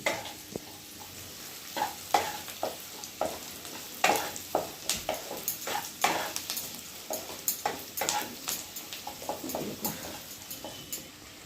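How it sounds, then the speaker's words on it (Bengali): Chopped carrot and onion fry in hot oil in a pan: a steady, close sizzle broken by frequent sharp scraping and clicking as a spatula stirs the vegetables. No one speaks. "তেল দিয়ে এবার আমি দিয়ে দেব গাজর কুচি আর পেঁয়াজ কুচিটা"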